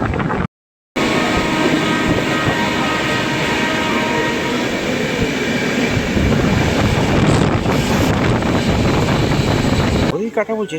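Puri–Howrah superfast express train running, a loud continuous rumble and clatter heard from inside a general-class coach, with wind buffeting and a brief dropout near the start.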